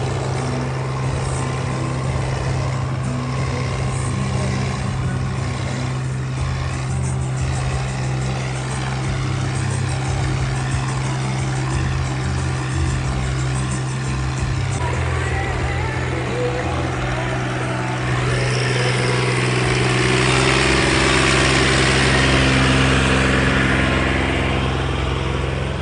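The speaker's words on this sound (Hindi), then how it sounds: "ले भाई ये ट्रैक्टर और भी दमदार है" A Massey tractor engine runs loud and steady, a deep continuous diesel drone with a constant low hum that swells slightly toward the end, with no voices over it.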